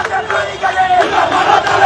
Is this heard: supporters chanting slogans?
yes